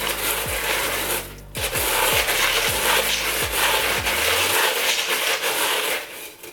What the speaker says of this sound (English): Just gonna mix it using this bamboo stick that we took off of my varicosum in the last video.